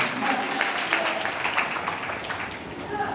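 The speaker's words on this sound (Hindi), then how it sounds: "तो ऐसा मैथमेटिशियन के लिए मैं ताली बजा दूं प्लीज।" A classroom group claps for a student, a dense, steady patter of many hands at close range, with a voice speaking over the applause.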